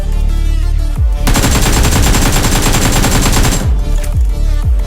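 Loud, close gunfire in the BGMI mobile battle royale game: a sustained burst of rapid automatic fire between a few single heavy shots, with no talking.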